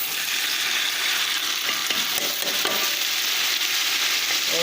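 Chopped tomatoes frying with onions in a pan for a bhindi dish make a loud, continuous close-up sizzle with occasional stirring scrapes, and no voices.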